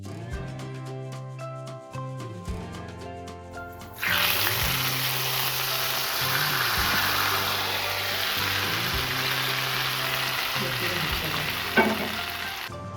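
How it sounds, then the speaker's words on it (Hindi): Hot oil tempered with cumin and red chilies is poured onto kadhi pakora, bursting into a loud, close sizzle partway through that hisses steadily to the end, after quieter tonal background sound. "अब डिश आउट किए हुए कढ़ी पकोड़े पे हम गरम मसाला ऐड करेंगे और ये तड़का जो रेडी किया ये डाल देंगे।"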